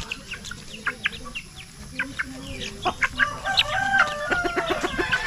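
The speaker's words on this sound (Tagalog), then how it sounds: "Daming manok yan, no?" Many chickens and roosters cluck and crow together in a busy, overlapping chorus, with bird chirps and faint background noise throughout.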